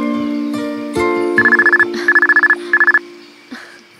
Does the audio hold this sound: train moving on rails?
no